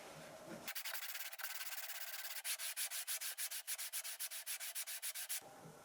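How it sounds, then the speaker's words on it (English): Wooden cutting board rubbed back and forth on a sheet of glass, steady close scraping strokes that settle into a fast regular rhythm of about twenty passes, with no talk. "I'll try sanding it on my piece of glass to see if I can get it to be flatter"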